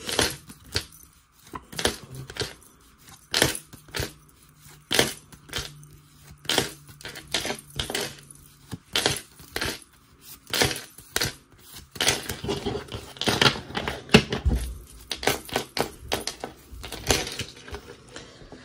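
Two decks of playing cards combined and shuffled by hand, giving rapid papery riffles and snaps in bursts with brief pauses, close and fairly quiet, no talking.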